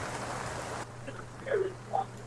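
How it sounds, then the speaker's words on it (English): Rain falling as a steady soft hiss that cuts off partway, followed by quieter room tone with a couple of faint voice-like sounds. "I can't have the rain go away."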